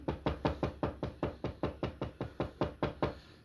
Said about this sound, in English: A lot of knocking there